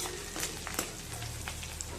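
Tempering for Rajasthani chana dal sizzles in a pan with oil, green chillies, bay leaves and asafoetida, a dense crackling hiss spotted with sharp pops that runs continuously at close range.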